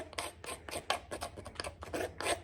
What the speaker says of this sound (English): If I take my knife now, scrape away some of the extra sawdust,